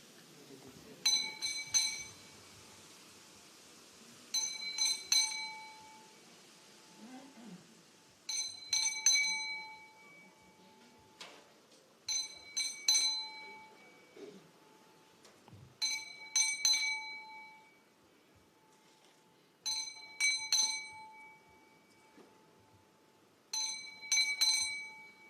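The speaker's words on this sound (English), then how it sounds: "He said he's going to whakatangi te pere. It means ring the bell." A bell rings at a funeral before karakia, clear metallic strikes in clusters of two or three, repeated about every four seconds, with faint murmuring voices underneath.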